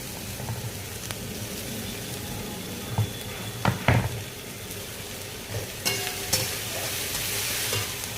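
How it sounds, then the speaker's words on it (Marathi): Carrot, capsicum and onion sautéed in oil on a high flame, a steady close sizzle broken by a few sharp scrapes and knocks of a spatula against the pan, with no talking. "फास्ट गॅसवर थोडंसं व्हेजिटेबल सॉटे करून घ्यायचं आहे"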